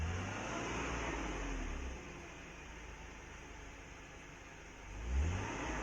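A Mercedes-Benz W124 E320 with a 3.2-litre inline six-cylinder engine converted to run on gas hums steadily at idle, then rises briefly in a short rev near the end, heard from outside the car with no talk.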